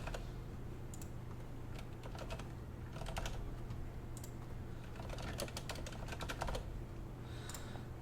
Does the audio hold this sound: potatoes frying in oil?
no